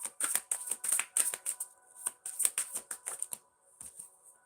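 Close, crisp riffling of Lemurian oracle cards being shuffled by hand in quick bursts of papery flicks and snaps, then slowing to a few softer taps at the end.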